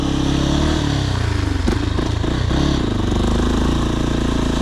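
A Sherco SE-RS 125 four-stroke motorcycle with a Yamaha engine runs close and loud, holding a steady mid-pitched drone with a brief clattery blip partway through before settling back to an even run.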